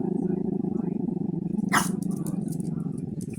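A dog named Coco growls from under a blanket, a low continuous rumbling growl heard close and muffled, with a brief rustle partway through.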